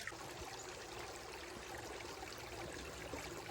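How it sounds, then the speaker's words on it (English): Creek water runs over a trail crossing in Los Padres National Forest near Matilija Falls, a steady close-up rush and trickle with a continuous burbling texture and no voices. "And here's another creek crossing."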